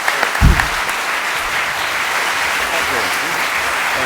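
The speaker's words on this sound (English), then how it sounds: "even a bigger applause for the speakers of tonight, Shiraz." An audience applauding the evening's speakers at a talk, steady clapping close by and sustained throughout, with a brief voice at the start.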